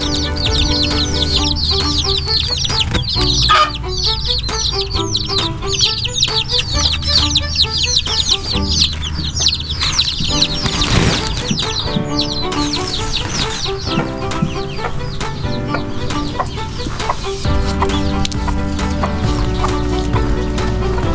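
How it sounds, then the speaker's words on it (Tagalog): Chickens cluck and chirp around a small backyard coop where a hen broods chicks, a busy continuous chorus of close clucking and peeping with occasional louder calls. "mayroon po akong binobrooding ng mga sisiw"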